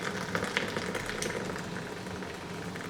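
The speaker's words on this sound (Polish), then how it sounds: "właśnie się przygotowała woda na kawkę" Water heating in a kettle for coffee early in the morning, a steady close bubbling hiss with faint crackles, heard alone.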